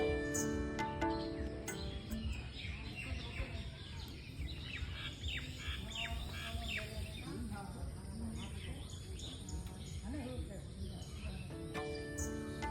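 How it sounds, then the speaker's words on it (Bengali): Many birds chirp and twitter in quick overlapping calls in the shade of a large banyan tree, against a faint outdoor background, with insect-like buzzing nearby. "শুনুন পাখির কলরব"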